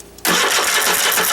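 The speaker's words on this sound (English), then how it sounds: "Now let's see how this thing starts after it has been adjusted, valves adjusted and all that good stuff." A Cub Cadet engine fitted with a new starter and freshly adjusted valves cranks and catches almost instantly, jumping into a loud, close, steady running roar.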